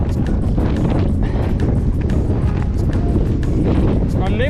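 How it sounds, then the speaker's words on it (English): Strong gusty wind roars and buffets the microphone of a cyclist riding near a border crossing, a loud, constant, rumbling blast with scattered thumps and rattles throughout. "wind is pushing me off the whole time."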